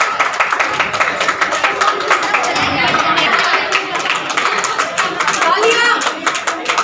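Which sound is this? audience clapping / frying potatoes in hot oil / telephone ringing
audience clapping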